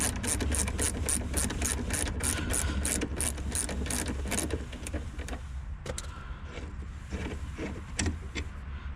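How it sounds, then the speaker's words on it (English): A stubby gear wrench ratchets on a brake caliper bolt of a 2005 GMC Envoy's rear brakes, giving a rapid, even train of close clicking that slows and loosens into sparser clicks toward the end. "got a little stubby gear wrench"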